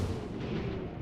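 A single muffled, booming gunshot in XCOM: Chimera Squad, a low, heavy thud with a short rumbling tail, fairly quiet and alone.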